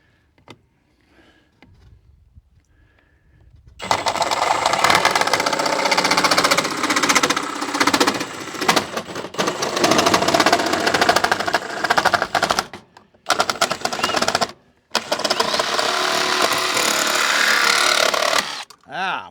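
A jigsaw saws through wood during an off-grid solar shed build, a loud, raspy, buzzing cut running for about fifteen seconds, broken by a few brief pauses before it finishes.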